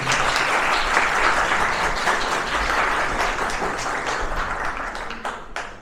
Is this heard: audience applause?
yes